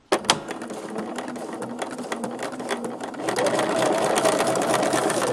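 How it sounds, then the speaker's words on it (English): A sewing machine stitches a straight quilt line at a short stitch length for a block-of-the-month quilt project, a steady fast mechanical whir that starts with a few clicks and grows louder and denser partway through. "with it set at that shorter stitch length, here we go."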